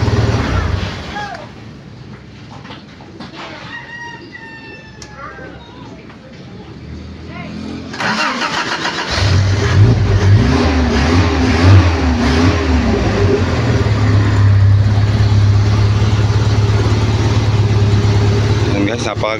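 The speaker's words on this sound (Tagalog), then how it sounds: "napakaganda ng makina ngayon" An engine with its exhaust pipe cut off starts up and revs hard, then settles into a loud, raw, rough run close by, with voices talking over it early on.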